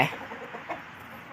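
A fighting rooster on a farm gives a loud, close cluck at the very start, then a few softer clucks fade into quiet background.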